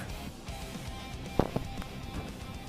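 Two sharp gunshots crack in quick succession in the Roblox game Violence District over a low, steady background hum.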